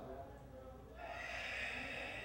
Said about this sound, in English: breathe out, making a loud hissing sound